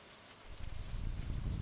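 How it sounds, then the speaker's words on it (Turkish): Steady rain ambience from the Stardew Valley video game, a soft continuous patter that swells slightly after the first half-second and holds at a low, even level with no voices. "Yağmurlu bir gün."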